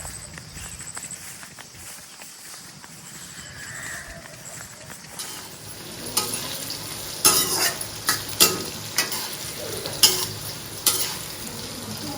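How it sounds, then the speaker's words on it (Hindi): Ground spices tempering a vegetable curry in a hot pan, a soft hiss that swells into bursts of crackling sizzle and spattering, with scraping stirs breaking through. "उसके बाद हमने मसाले पीस लिए हैं और सब्जी छौंक देते हैं।"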